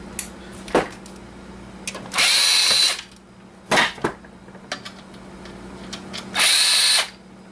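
Power drill backing screws out of an old network switch case, two long loud whirring bursts with shorter clicks and a brief spin between them, close up.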